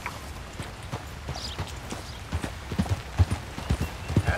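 Rhythmic horse hoofbeats in Red Dead Redemption 2 clip-clop steadily, growing a little louder toward the end, with no voices over them.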